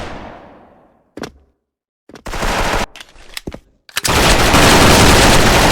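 Rapid bursts from a DRAGON G36C rifle in the shooter Special Force, loud and close, with short volleys separated by silent gaps before a long continuous stream of automatic fire.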